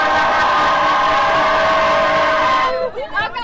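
Train noise inside a Montreal metro station, a loud sustained rumble with tonal whine and screech that sweeps and fades near the end, under background crowd murmur.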